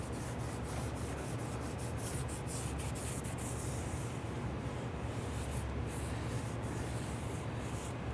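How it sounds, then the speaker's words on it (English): A gasket scraper works over the mounting surface of a 1994-2004 Ford Mustang rear axle, clearing old gasket material in a continuous, faint rubbing scrape with no talk. "if you have leftover gasket material, just go ahead and use your gasket scraper to clean that up"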